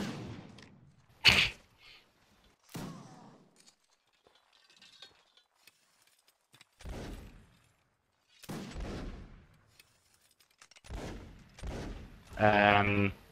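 Scattered musket shots from a line battle video game crack out one after another in separate bursts, some close and sharp, others fainter, with quiet gaps between volleys.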